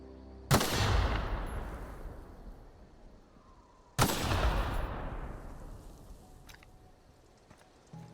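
Two loud gunshots from a gun in The Outer Worlds video game, about three and a half seconds apart, each with a long echoing tail that fades slowly, and no talk between them.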